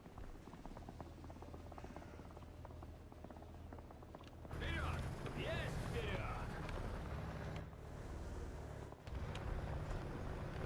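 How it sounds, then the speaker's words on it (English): A steady engine drone from a vehicle in War Thunder, low and continuous, growing louder and rougher midway, with speech faintly present over it. "That's not my engine, right?"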